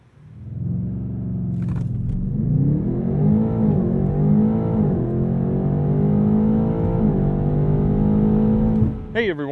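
A 2020 BMW M8 Competition Coupe engine revs loud and close, holding a strong, rising and falling growl for about nine seconds before cutting off with a brief click at the end.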